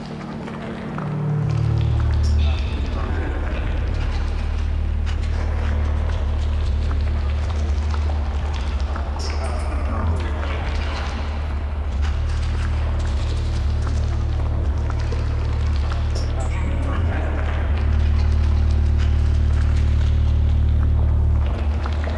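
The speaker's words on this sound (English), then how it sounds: "Sounds like we're walking through water." Synthesized squelchy, splashing steps repeat over a deep droning bass, like feet sloshing through water, loud and continuous without talk.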